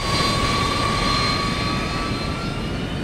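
Steady, loud airplane engine drone inside an aircraft cabin in the video game Metal Gear Solid 4 on PS3, a continuous broadband roar with a sustained whine running through it, with no talking.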